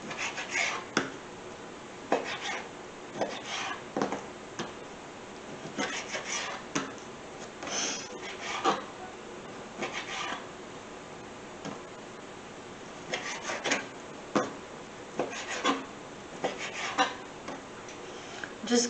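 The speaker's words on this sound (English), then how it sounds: "Just cutting them up so that they cook a lot faster" A knife cuts cooked bacon on a board in a kitchen, giving quiet, irregular ticking chops with short pauses between small bursts.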